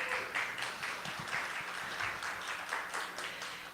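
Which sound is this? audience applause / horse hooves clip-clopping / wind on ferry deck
audience applause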